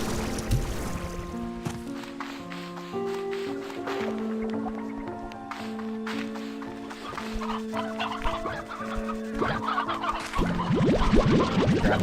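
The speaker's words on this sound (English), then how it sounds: "Grab all of these hens." Hens cluck in the farming video game Slime Rancher 2, busy overlapping calls layered over a melodic music track, continuous and fairly loud, with the clucking growing denser toward the end.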